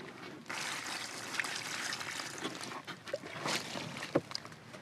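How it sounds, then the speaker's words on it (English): Water poured onto plastic sheeting laid in a hole dug in bush country, a soft continuous trickle and splash lasting several seconds at moderate level, with no voices. "Now I'll just put my water in the"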